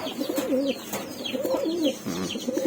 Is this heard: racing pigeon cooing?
yes